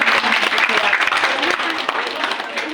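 Dense applause from an audience at an academic talk, steady and loud, with a voice speaking over it.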